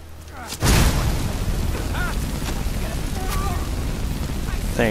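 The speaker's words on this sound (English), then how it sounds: "I can shoot water at people." A water spell is cast in the video game Skyrim, giving a sudden booming whoosh followed by a sustained rushing spray, loud and close, while a voice talks over it.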